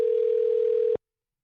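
Steady telephone dial tone held for about a second before cutting off abruptly, as a call is placed to a Lexus car dealership; no voices over it.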